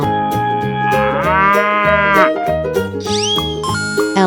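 A cow moos in a 3D animal video game, a long, loud low call over upbeat, plinking game music, with sparkly chime effects closing it out.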